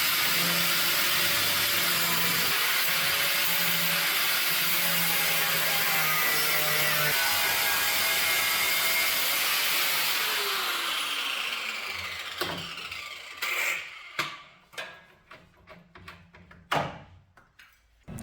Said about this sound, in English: First I need to cut off the old rusty parts.